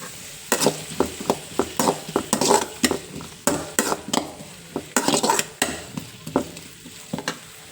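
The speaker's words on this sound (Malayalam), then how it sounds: "ഇങ്ങനെ നമുക്ക് ഓരോന്നും വറുത്ത് ഓരി വയ്ക്കാം" A utensil scrapes and clacks against a pan in a quick, irregular rhythm over a soft sizzle of onions frying close by.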